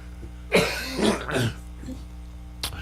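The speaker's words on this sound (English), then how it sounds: "Clear your throat" A man clears his throat several times in quick, rough bursts close to the microphone, then gives one last short throat-clear after a pause in a quiet room.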